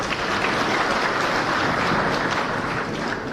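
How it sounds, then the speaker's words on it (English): Steady, dense applause from a large audience at a meeting with business tycoons fills the room at an even level throughout, with no voices over it. "So give me a clap for that."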